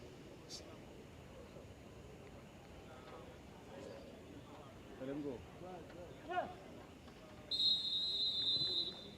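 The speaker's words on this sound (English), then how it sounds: "that man, McPhee, blows his whistle to commence the action here in East Trinidad" A referee's whistle blows to start a football match in East Trinidad, a sharp, shrill, steady blast near the end that rises above faint crowd and field noise, with a commentator talking before it.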